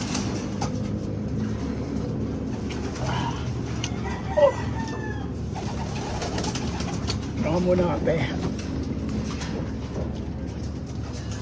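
Pet pigeons coo and chirp from cages in a breeder's loft, soft and intermittent against steady outdoor background noise, with someone speaking briefly among them.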